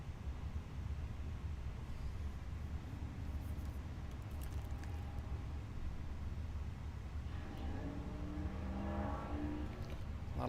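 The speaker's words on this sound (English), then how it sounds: "A lot of loud cars around here." Loud car engines rumble steadily at an airport in Microsoft Flight Simulator 2020, a continuous low roar with a rising revving note near the end, no talk over it.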